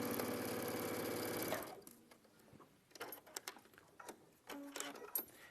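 A sewing machine stitches a strip of striped fabric, running in a fast, steady, close whir for about a second and a half, then stopping, followed by scattered clicks and handling noises.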